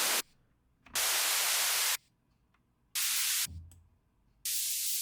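Bursts of loud white-noise hiss, some cut by a high-pass filter so only thin, bright upper hiss remains, alternate with near-silent gaps in four separate blasts of about one second each.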